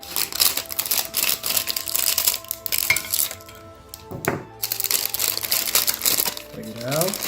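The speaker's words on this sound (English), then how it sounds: "Let's cut it open." A snack packet of Indian snacks bought at an Indian bazaar is cut open with a few sharp crinkles and crisp rustles of the wrapper, close and fairly loud over background music and room noise.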